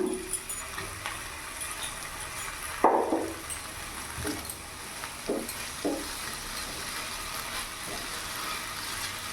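Egg bhujiya with tomato sauce is stirred in an oily pan, a soft continuous sizzle broken by a few scraping knocks of the spatula, close and fairly quiet.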